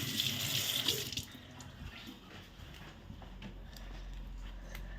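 Water splashes and runs steadily while something is washed in a home, louder at the start and then settling into a continuous flow.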